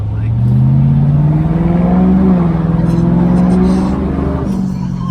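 A 2005 Ford Mustang GT 3-valve V8 with a Pypes muffler delete revs under light throttle, a loud, deep exhaust drone rising and falling steadily, close by, with faint voices in the background.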